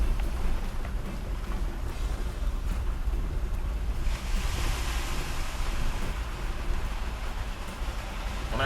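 Ocean waves crashing against rocks along a coastline, a steady washing roar with a surge building toward the end, mixed with wind buffeting the microphone and no one talking.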